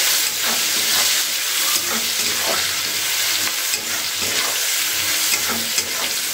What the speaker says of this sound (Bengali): এবার আমি শুটকি মাছগুলোকে তেলের মধ্যে ভেজে নিচ্ছি।